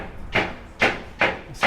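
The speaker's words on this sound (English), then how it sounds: "That's the guy hammering right there." A man hammering rust off the steel deck of a 1945 merchant marine ship, four loud, evenly spaced ringing blows close by.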